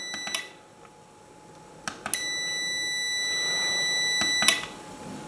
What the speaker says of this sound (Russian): стоит только включить реле, контакты замкнутся и тестер пищит